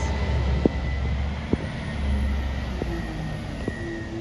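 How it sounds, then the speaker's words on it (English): Snow plow trucks rumbling past on a snowy road in White Plains, New York, a steady low engine drone with a few sharp scraping knocks and clanks at moderate distance, no talking. "That's a lot of trucks."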